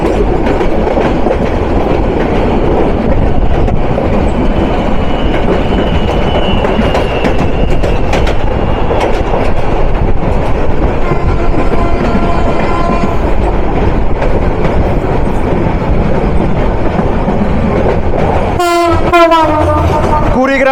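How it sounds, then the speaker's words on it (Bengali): An express train passes on a double-track line in Bangladesh, a loud, continuous rumble of wheels and wagons close by with clattering rail joints, ending in a blast of the horn. "ডাবল লাইনে ক্রসিংয়ে আমরা হয়তো পেতে পারি দেশের সর্ব উত্তরের সীমান্তবর্তী জেলা পঞ্চগড় থেকে ছেড়ে আসা রাজধানী ঢাকা অভিমুখী ট্রেন নাম্বার 758 টাউন দ্রুতযান এক্সপ্রেসকে।"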